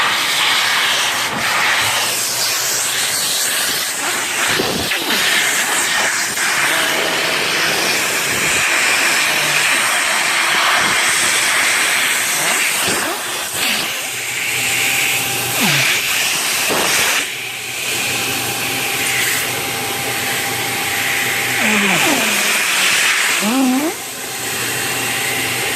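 Loud continuous rushing roar of a blower forcing air through a GY6 scooter brake line to bleed it, a steady hissing drone with brief muffled shifts in tone and faint voices underneath.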